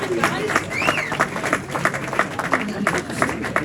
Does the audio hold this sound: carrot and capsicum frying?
no